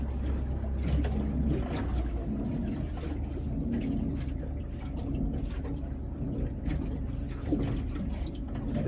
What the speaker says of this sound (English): I got the kicker motor running.